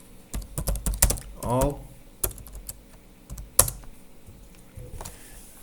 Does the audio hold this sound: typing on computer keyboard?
yes